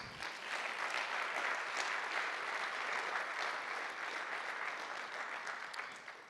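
Sustained applause from a concert audience at a Brooklyn music-and-literature night, steady dense clapping throughout at even loudness, fading slightly at the end.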